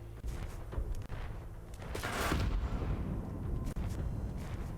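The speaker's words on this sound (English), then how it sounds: "Just find the bombs, explode the bombs." Bombs explode in the video game Divinity: Original Sin II, with a string of booming blasts and a bright burst of crackling noise in the middle, all fairly faint.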